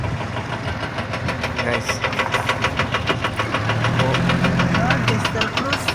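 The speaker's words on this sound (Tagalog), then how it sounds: "Ayan po yung bulldozer, overhauling po yung makina niyan." A bulldozer engine under overhaul runs at a road construction site, a steady rhythmic knocking idle close by, with someone speaking over it.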